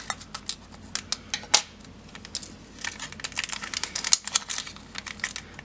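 Plastic packaging for a Color Street nail strip set crinkles and tears open up close, a run of sharp, irregular crackles and rips.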